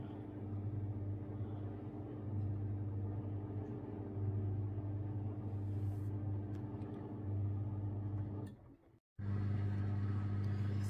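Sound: Samsung Ecobubble washing machine intermediate spin

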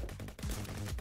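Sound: shotgun firing rapidly in a video game

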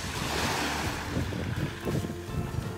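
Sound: sea waves around a fishing boat

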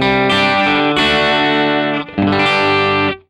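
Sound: electric guitar through tube amp with effects

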